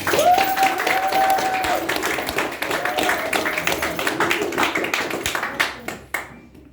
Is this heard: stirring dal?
no